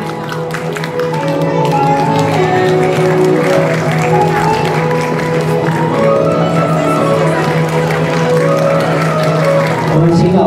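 Steady applause fills a kindergarten graduation ceremony after certificates are handed out, a continuous patter of clapping with a low crowd murmur and some talking beneath it.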